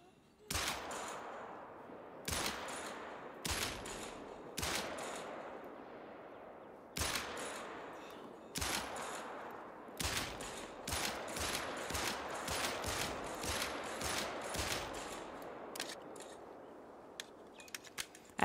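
Sharp gunshots crack one after another while hunting kangaroos in Australia, loud and close, spaced a second or two apart at first and then coming in quicker clusters, with no talk over them.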